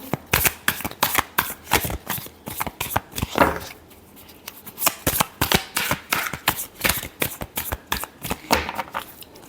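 Tarot cards are shuffled by hand in a steady run of crisp riffling snaps and slaps, close and fairly loud, with a brief pause near the middle before the rapid card flicks resume.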